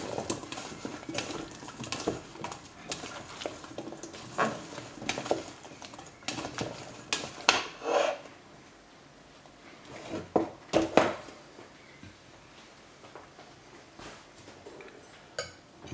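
Piedmontese salad being mixed in a bowl, a run of close clinks and scraping clatters of utensil against dish in irregular bursts, then quieter pauses with occasional taps.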